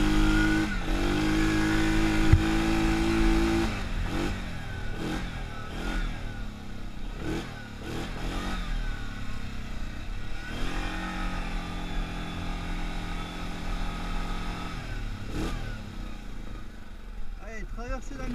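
A Yamaha Grizzly ATV engine labors up a steep hill in low gear, a steady loud drone with a few surging rises and dips, while a person talks over it at times.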